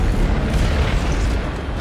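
A marker hurled from a TK charging plate explodes in Dead Space 3, a heavy, deep boom that rumbles loudly throughout with no voices over it.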